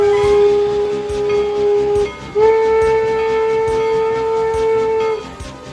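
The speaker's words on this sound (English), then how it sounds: "The guard blew his whistle, and Edward started away." A guard's whistle sounds two long, steady shrill blasts with a short break between them, over the low chuffing and hiss of a steam locomotive setting off down the main line on a Rio Grande railway.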